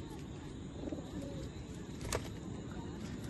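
Pigeons coo faintly at night while each bird is being oiled, a low continuous murmur with a brief sharper sound near the middle.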